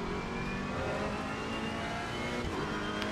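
Race car engine from a racing simulator video game, a steady loud drone held at a constant pitch throughout with no talk over it.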